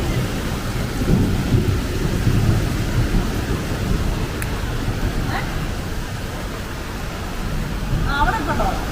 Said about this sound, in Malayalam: അത്യാവശ്യം ഇടിയുണ്ട്.